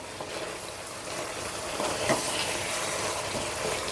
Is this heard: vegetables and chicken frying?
yes